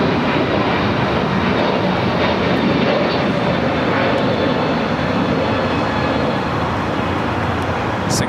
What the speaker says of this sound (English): United A321 Neo taking off